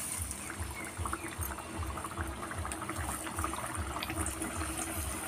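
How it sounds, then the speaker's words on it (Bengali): Puris made from rice flour and potato fry in hot white oil with a continuous bubbling sizzle and a soft rhythmic pulsing, close and steady, without talking. "তেলটা গরম হয়ে গেছে, এবার আমি পুরিটা ছেড়ে দিচ্ছি"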